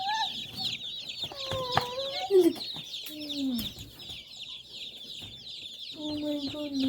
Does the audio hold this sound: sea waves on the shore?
no